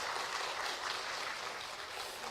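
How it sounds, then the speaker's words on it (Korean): A church congregation breaks into applause, a dense, even wash of clapping that holds steady at moderate level from start to finish with no talking over it. "우리 다시 한번 우리 하나님께 영광의 박수로 우리 격려하겠습니다"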